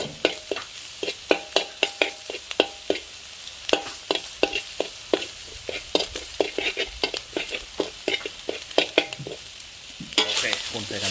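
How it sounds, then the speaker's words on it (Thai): Minced garlic stir-fried with fatty pork belly in a pan, with loud rhythmic clacks of a spatula scraping the pan over a steady close sizzle and no talking. "ใส่กระเทียมลงไปเนาะนี่ครับ หอมๆแล้ว"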